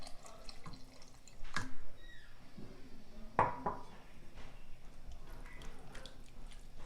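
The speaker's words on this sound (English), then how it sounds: "I'm going to add about a cup extra of broth" About a cup of extra broth is poured into a pot of kale and lentil soup with potatoes. Splashes and drips come in a few separate bursts, mixed with light clinks of a pot or utensil, fairly close.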